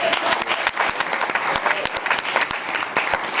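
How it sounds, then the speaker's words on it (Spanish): Church congregation applauding the Lord during a Spanish-language sermon, a dense, steady clatter of many hands clapping for a few seconds with no voices over it. "Denle un fuerte aplauso al Señor."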